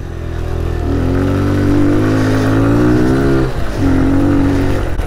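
A Kawasaki Z125 Pro motorcycle engine revs loudly up close while being ridden, its pitch climbing steadily, then dropping briefly at a gear change before rising again, with no talk.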